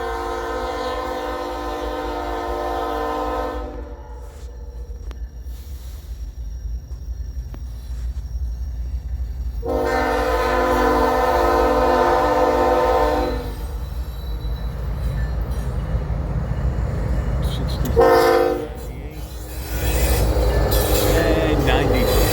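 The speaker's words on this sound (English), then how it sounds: "BNSF coal drag." A BNSF coal train passes near Fremont, Nebraska, on the Sioux City subdivision, with a loud steady rumble of rolling wagons under two long, strong horn blasts and a short third blast near the end.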